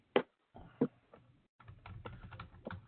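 Numbers typed on a computer keyboard: a few sharp, spaced key clicks, then a quicker irregular run of lighter taps, close and quiet.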